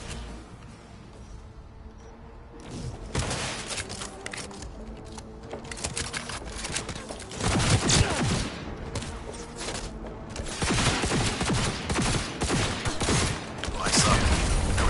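Gunfire in the video game Cyberpunk 2077: dense, repeated bursts of shots and bangs, loud and close, firing in rapid clusters through most of the stretch after a quieter opening, with no talk.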